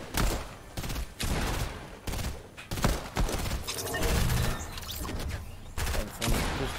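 Pistol shots in a shooting video game, Call of Duty style: a string of sharp gunshot bursts, some in quick pairs, punching through busy game sound effects and rumble, with no talk.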